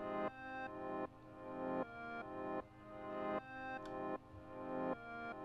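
Looped music pattern played back in FL Studio, a repeating bar of layered harmonic tones with a sawtooth-like pumping swell that restarts roughly every 0.75 seconds, steady and alone without talk.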